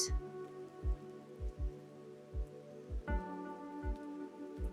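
Rain falling in the video game Freshly Frosted, a soft, steady patter marked by regular low, thudding drops that recur every half second or so, with no voices.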